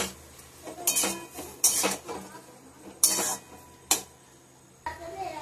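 A spoon scrapes and clinks against a pan while singara potato filling is stirred together with green chillies. Several distinct metallic knocks and scrapes come at uneven intervals against quiet kitchen background.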